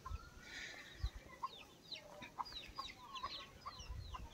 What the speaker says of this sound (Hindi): ये आप मुर्गियाँ देख सकते हैं, लोग गाँव में मुर्गी पालते हैं